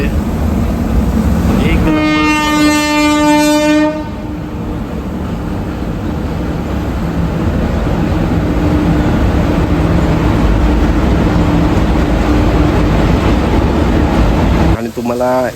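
Train passing near KP waterfall at Khopoli, its horn sounding in a long loud blast early on, then the steady roar of rolling wagons close by, with a brief spoken word over it.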